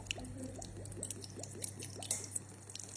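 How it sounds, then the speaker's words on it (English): Light soy sauce poured into a pan of honey garlic chicken, a soft continuous liquid trickle with faint dripping patter, steady and close over a low background hum. "And then we go in with some light soy sauce."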